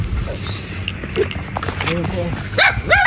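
Dogs yip and bark in short bursts, growing sharper toward the end, mixed with people talking nearby.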